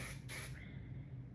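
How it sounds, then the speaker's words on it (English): A synthetic wig gets a short burst of styling spray, a close, steady hiss lasting about half a second before it trails off into quiet room tone. "I'm gonna give it a spray."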